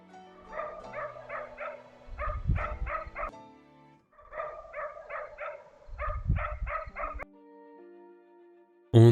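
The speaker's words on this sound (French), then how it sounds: "les chiens, quand ils aboient comme ça" Dogs bark in repeated bursts of sharp yips near wild boars, two clusters of barking a few metres off, heard in the open from a trail camera with low rumbling noise beneath and a short loud thump at the end.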